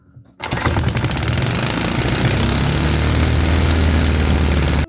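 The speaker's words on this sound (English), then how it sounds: "this 3D printed fuel injected engine revved to 6000 RPM" A 3D-printed fuel-injected engine starts abruptly and then runs loud and steady, with a dense buzzing roar that holds near and constant to the end of the clip.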